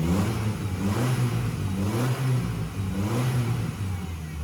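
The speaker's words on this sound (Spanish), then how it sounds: "Y escúchelo cómo acelera." A Volkswagen Gol engine is revved up repeatedly, right after its throttle position sensor was calibrated. The mid-pitched engine note swells and falls in quick, close bursts with no talking.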